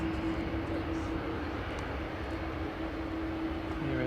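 An Air Transat airliner arriving from Toronto at Manchester Airport gives a steady, moderately faint engine rumble with a faint sustained whine, continuous throughout.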